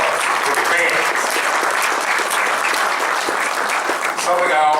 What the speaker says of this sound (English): give yourselves a round of applause for the fans.